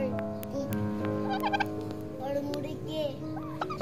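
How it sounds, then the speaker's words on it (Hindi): Turkey gobbling at a family park in Chakwal: quick rattling gobble bursts from nearby birds, mixed with other fowl calls and background chatter. "टर्की"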